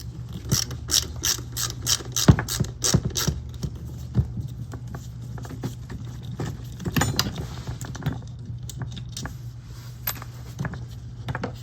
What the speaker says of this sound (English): we'll just take that out with a Phillips head